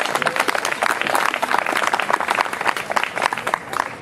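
An audience at a Leadership Morgan Hill excellence awards event claps loudly and steadily in a dense, sustained round of applause that fills the room with no talking over it.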